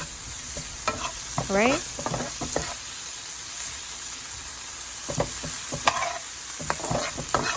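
Jerk salmon pasta with pollo seasoning sizzling softly in a pot while being stirred, a steady frying crackle with occasional spoon scrapes and knocks, and a brief voice partway through.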